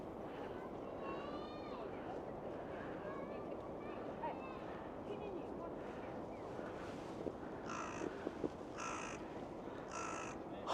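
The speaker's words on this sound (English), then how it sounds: "By the way, that's the sound of that crow." Crow cawing in a snowy Hokkaido winter setting: three hoarse, raspy caws in steady succession near the end, over a constant wash of wind and background noise, with faint birdsong earlier.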